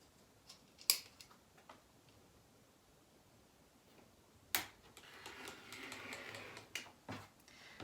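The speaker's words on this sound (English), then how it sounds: "we can just use our rotary cutter and our ruler" A rotary cutter rolls across fabric against a ruler, with soft crisp slicing strokes, light taps and rustling of the cloth, faint and close.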